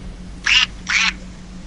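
A squeezed toy chicken used as a quiz buzzer gives two short, loud squawks in quick succession against a quiet room.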